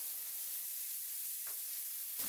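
Steady hissing sizzle of onion, tomato and masala in a hot pan for green peas kurma, with a couple of brief scraping stirs near the end; no voices.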